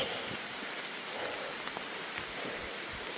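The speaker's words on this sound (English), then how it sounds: "the rain came down pretty hardcore. Still coming down pretty decent" Steady rain pattering on a hiking trail along the Appalachian Trail in North Carolina, a dense continuous hiss of drops at moderate volume with no talking.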